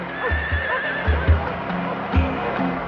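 Pack horses on an Australian expedition neigh and whinny while hooves clop in a loose, uneven rhythm, fairly close and moderately loud, with no talking.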